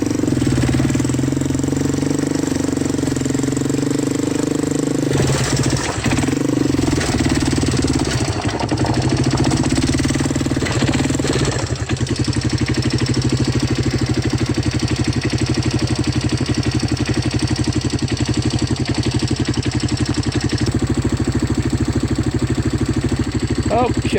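A Yamaha 200 motorcycle engine idles steadily nearby, a continuous low rumble with a brief rougher patch early on, while a person talks over it.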